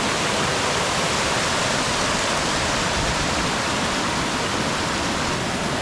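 Stream water rushes steadily at a hiking trail water crossing, a loud, even, hissing flow heard up close with no voices.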